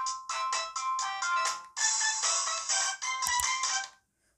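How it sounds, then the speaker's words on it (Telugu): A Jio Bharat 1 phone playing its ringtone, a bright, rhythmic electronic melody of repeated short phrases, loud and clear on its own, before it cuts off into silence. "సౌండ్ సెట్టింగ్స్కి వెళ్ళి ఒకసారి రింగ్ టోన్ ఎలా ఉందో"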